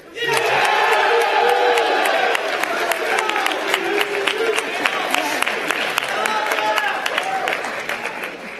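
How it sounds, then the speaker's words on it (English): A crowd at a midyear graduation ceremony cheers and claps for a graduate, whoops and shouts rising over steady applause, loud and lively, then easing slightly toward the end. "Caleb comes with his own cheering section."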